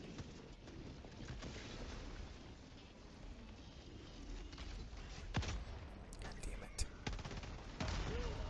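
Dense, continuous gunfire and explosions from the video game Helldivers 2 during a battle against robot enemies, loud rapid bursts with heavier blasts near the end.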